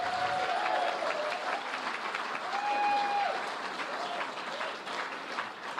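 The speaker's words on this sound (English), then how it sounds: "give one more round of applause for Karen Ferguson and Karen Friedman and their staff" Audience at a pension rights anniversary event applauding in a sustained, even round of clapping, with faint feedback-like tones drifting above the crowd.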